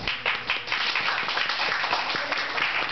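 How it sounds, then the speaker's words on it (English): Steady, dense applause from an audience at a Banned Book Week lecture, a continuous wash of many hands clapping with no voices over it. "Always makes me nervous when people applaud for me."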